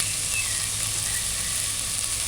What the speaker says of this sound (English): Stir it in, and allow it to saute.